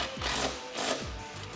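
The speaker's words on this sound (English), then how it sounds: "I'm gonna start this by hand and then tighten down with my impact gun" Impact gun tightening a brake line bracket bolt on a 2015-2018 Ford Mustang GT during suspension work, two short buzzing bursts with a brief pause between, fairly close and with no talking.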